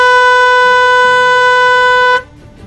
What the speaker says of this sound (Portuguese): O tom da buzina com o carro parado é este.